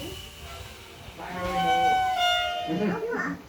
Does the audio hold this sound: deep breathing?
no